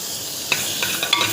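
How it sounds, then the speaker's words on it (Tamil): A small piece of butter sizzles in a pan on the stove as the base for corn soup, making a brief, steady hiss with a few faint clinks and stirring scrapes. "ஒரு சின்ன துண்டு தான் பட்டர் போட போகிறேன்"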